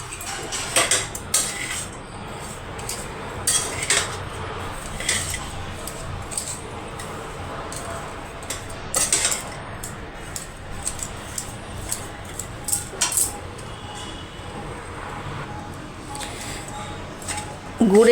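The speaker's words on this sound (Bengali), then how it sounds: "এবার গুড় আর নারকেল কোড়াটা ভালো করে মেশাবো।" Jaggery and grated coconut are stirred together in a pan, with intermittent scraping and clinks of a utensil against metal at a moderate distance over a low background hum.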